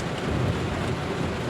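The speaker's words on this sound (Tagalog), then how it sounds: "kusog ng ulan" Heavy rain pours down in a loud, steady, close roar during a storm, with thunder rumbling underneath; no voices.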